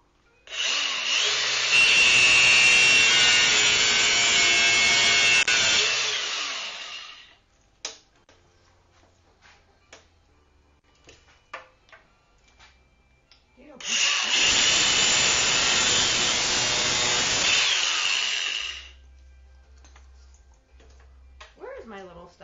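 A power tool cuts through a seized brake line bolt on a motorcycle in a shop, two loud sustained whining bursts of several seconds each, with quieter clatter and handling noise between them.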